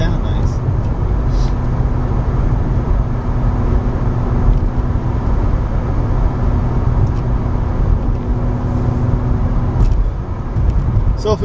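A Mazda RX8 rotary engine buzzing as it revs while driving, a continuous close, loud hum from inside the car with someone talking over it.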